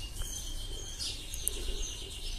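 A rescued young sparrow gives a few soft, high chirps close by over a low room hum, brief and sparse rather than a steady call.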